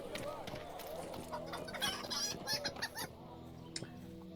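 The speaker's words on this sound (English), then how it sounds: "Anxious chicken." A chicken in the online game Lord of the Rings Online clucks repeatedly in a jittery, uneven series of short squawks, moderately close and set against a soft background hum.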